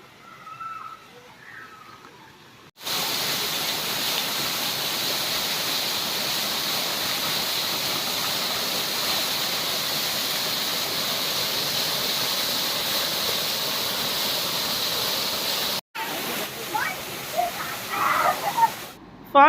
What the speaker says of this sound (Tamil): ஃபால்ஸோட சவுண்ட் பார்த்தீங்கன்னா கொஞ்சம் கொஞ்சமாக கேட்க ஆரம்பிச்சிச்சு